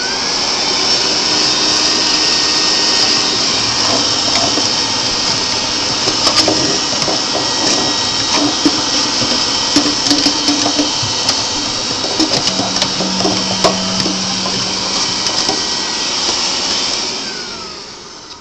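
A vacuum cleaner runs loud and steady while cleaning out a Breckwell pellet stove, a continuous high whine with rattling clicks as debris is sucked through the hose, winding down at the end.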